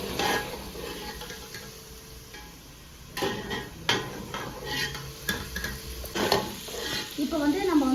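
Prawns fry in oil in a pan for prawn biryani, with a steady close sizzle and repeated clinks and scrapes of a metal utensil against the pan. Soft bubbling rises toward the end.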